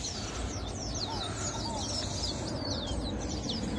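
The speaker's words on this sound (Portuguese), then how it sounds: "E os pássaros estão aí, ó." Several birds chirp and call in a busy chorus by the São Francisco River waterfront in Ibotirama, Bahia, over a low, steady outdoor background, their quick bright notes overlapping continuously.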